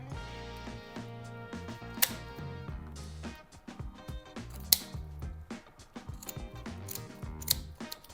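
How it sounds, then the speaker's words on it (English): Kitchen scissors make a series of small crisp snips through lobster tail shell, with quick clicks and crunches in uneven bursts, close and fairly quiet. "we're going to cut through this part here, just little snippets to help loosen up the meat"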